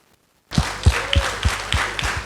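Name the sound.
audience applause for panelists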